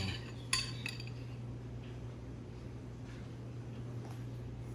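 Butter chicken ingredients mixed in a bowl with a utensil, giving a few sharp clinks near the start and then soft, faint scraping over a low steady background hum.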